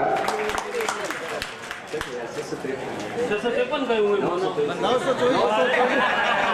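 An audience at a devotional group's yatra event in Barmer claps for a lucky draw winner. Scattered claps build into a crowd hum, with someone talking over the applause and the chatter.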